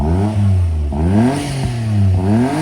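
A Daihatsu Naked engine with aftermarket exhaust and intake is revved several times up close, loud rising and falling swells with a clattery edge between blips.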